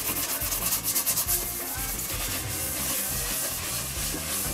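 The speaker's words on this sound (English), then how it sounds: "I can sand down the excess very quickly using my sanding block." Sanding block rubbing over fresh paint on a guitar body, a continuous scratchy hiss with quick back-and-forth strokes at first, then steadier friction, close and alone.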